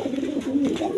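Race-tested pigeons kept for sale give a continuous, soft, throaty cooing close by, with no voices.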